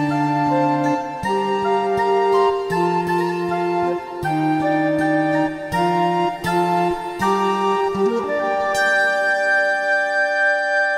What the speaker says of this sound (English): This is actually a recorder with an acoustic guitar